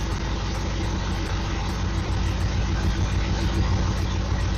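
A Camaro's engine runs with a newly fitted T56 transmission in first gear, giving a loud, steady, rumbling drone that stays constant throughout with no talking.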